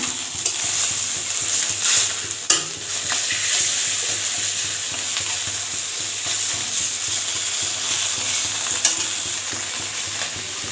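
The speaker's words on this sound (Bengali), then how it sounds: "আমি এই মাছটা ভালো করে ভেজে নিই।" Fish fries steadily in a hot pan in a home kitchen, giving a continuous close sizzle and crackle with an occasional sharper pop, and no voices.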